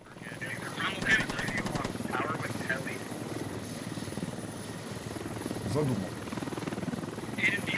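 Helicopter rotor thrum from the video game Squad, a steady beating throb that holds throughout beneath talk, with a brief higher-pitched whine near the end.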